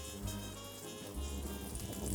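Scallops frying in melted butter in a very hot pan: a steady, soft, broadband sizzle that swells slightly partway through, heard alone without talking.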